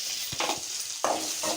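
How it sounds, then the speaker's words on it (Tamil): Onions in a little oil in a kadai sizzle softly while a spoon stirs them, giving a few brief scraping strokes over a steady hiss, close up with no talking. "ஒரு கடாயில் பார்த்தீங்கன்னா வெங்காயத்தை போட்டிருக்கேன்"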